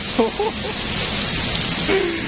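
Heavy rain pours down steadily on a fishing spot, a dense even hiss filling the whole stretch, with brief bits of speech-like sound near the start and end over the downpour.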